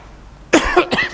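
A man gives a short, harsh cough in two or three quick bursts, close to the microphone and loud, with no words over it.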